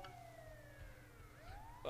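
Ambulance siren in GTA Online, a wailing tone sweeping down and then back up, heard a little way off and fairly faint over low road rumble, ending in a sharper burst.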